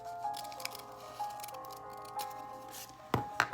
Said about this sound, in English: I'm going to use my scissors, and I'm going to cut only on that line I just drew